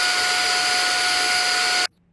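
Brigii M1 Mini cordless handheld vacuum running loud and close, a steady high-pitched whine with strong tonal hum that cuts off abruptly near the end, leaving near silence.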